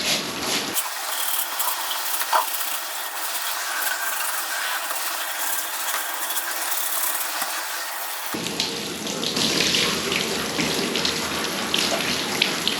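Running shoes are rinsed under a tap in a sink, a steady hiss of flowing water that shifts to a fuller, splashier rush partway through as the stream hits the shoes.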